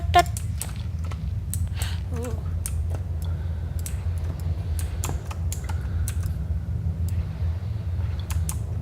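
Typewriter keys clacking in the horror game Penumbra Overture, a steady run of sharp irregular strikes over a low constant rumble, with a faint clink of the mechanism partway through.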